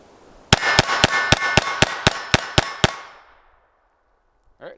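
A Taurus TX22 pistol fires ten sharp, loud shots in quick, evenly spaced succession, each with a bright ringing tail. The shots fade into a brief silence.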